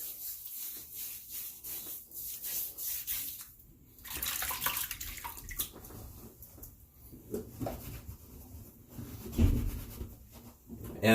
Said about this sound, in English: Go ahead and do a quick rinse here.